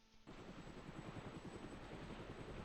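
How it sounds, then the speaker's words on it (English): A helicopter in the game Arma: Cold War Assault whirs with a steady, rhythmic rotor thump that starts abruptly and keeps going at moderate loudness. "I feel like there's a helicopter."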